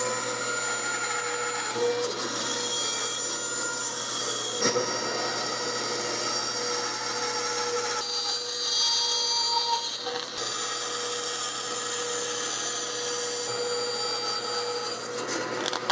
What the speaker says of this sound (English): I'm gonna try to at least get the bulk of it on the bandsaw because I find the bandsaw to be easier and the blade sharp.